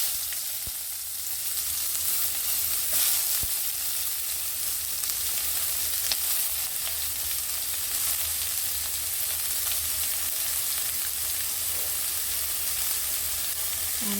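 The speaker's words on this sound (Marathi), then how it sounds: "आनी तो बरो भाजयता" Cumin powder sizzles and fries in a pan while pumpkin sukhi bhaji is cooked Goan style, a continuous close hiss with occasional small crackles and the odd stir.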